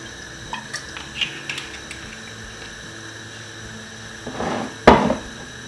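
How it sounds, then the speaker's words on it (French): Faint clinks and small knocks, then a louder metallic clatter as a saucepan is set down on a stovetop burner near the end. "Je vais mettre ma casserole sur le feu."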